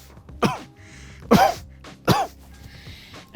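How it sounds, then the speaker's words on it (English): Three deep, harsh coughs spaced about a second apart, loud and close, produced for a COVID-19 saliva self-test before spitting into a collection funnel. "Deep cough 3 to 5 times."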